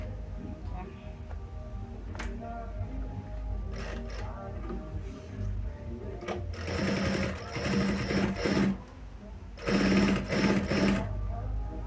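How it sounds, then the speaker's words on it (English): A sewing machine bastes the main fabric of a sling bag together in short, rapid bursts of stitching, separated by pauses and quiet handling, with someone speaking softly in between. "We're basting the main fabric together."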